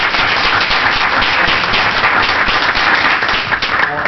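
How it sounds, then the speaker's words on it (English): An audience at a city council meeting applauds steadily, dense continuous clapping that stays loud and even throughout with no talk over it. "we should applaud Darrell as our traffic officer"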